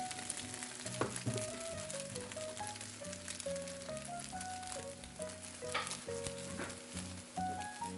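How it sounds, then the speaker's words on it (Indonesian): Eggs and tofu being stirred slowly into a soft scramble in a pan, a quiet sizzle with soft spatula scrapes, while gentle background music plays throughout. "Aduk perlahan sampai terbentuk orak-arik."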